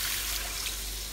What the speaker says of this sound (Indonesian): Masukkan 1 gelas air.